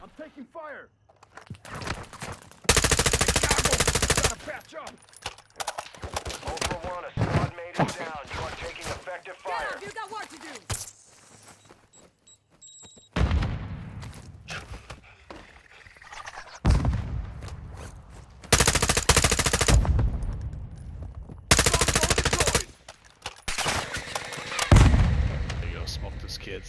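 Gunfire in a first-person shooter game: loud bursts of shots and heavier blasts recur in clusters across the clip, with quieter stretches between and voices talking in the gaps.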